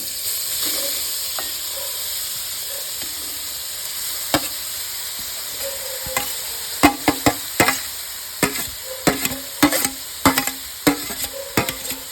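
Grated carrot stirred in ghee in a pan for carrot halwa: a continuous bright sizzle with scattered then increasingly frequent scraping spoon strokes and clinks against the pan, close and fairly loud.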